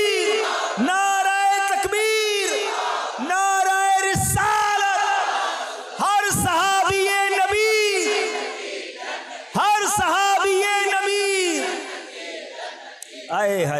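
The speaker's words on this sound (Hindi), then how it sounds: "सब ने मिलकर नारा तकबीर लगाया" A large religious gathering raises the Nara-e-Takbir slogan in unison, four loud, sustained bursts of massed voices rising and falling in quick succession, each swelling to a full-throated roar before breaking off.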